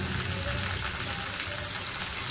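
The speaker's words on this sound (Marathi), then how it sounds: "आपल्याला बारीक चॉप केलेला कांदा टाकायचा आहे" Finely chopped onion sizzles steadily in a hot pan of oil with green chillies and garlic, making a loud, continuous close-up frying hiss with no one talking.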